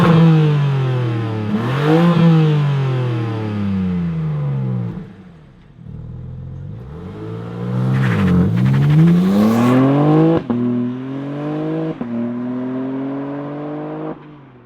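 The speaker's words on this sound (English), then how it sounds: "let's fire up this special BMW and hear what it sounds like." A BMW M4 CSL engine fires up and revs loudly and close by, with several rising and falling rev sweeps that ease back toward idle between blips. No voices are heard.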